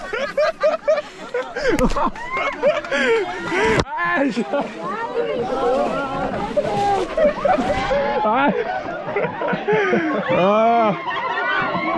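Water is splashed over a tour group in Mexico. Loud sloshing and splattering bursts mix with excited shouting, laughter and chatter close by.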